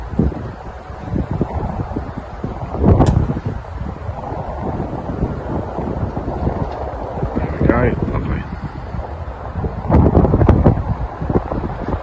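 Wind gusts buffet the microphone outdoors near water at a fishing spot, rising in rough bursts, while someone speaks briefly.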